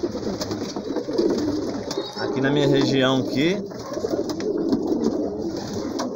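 Throaty cooing from a loft of roughly ninety pigeons in Sarzedo, with one clear rolling coo rising near the middle of the clip over a low bed of other birds while someone speaks.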